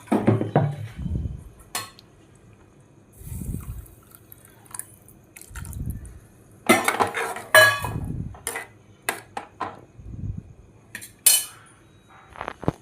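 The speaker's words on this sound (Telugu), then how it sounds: "చింతపండు రసం వేసుకున్న తరువాత మొత్తం అంతా ఒకసారి కలిసేటట్టు మళ్ళీ కలుపుకోవాలి." A spoon stirs tamarind-juice curry in a pot, making intermittent metallic clinks and scrapes against the pot with wet, squishy churning between bursts. The sounds are close and irregular, with quiet gaps in between.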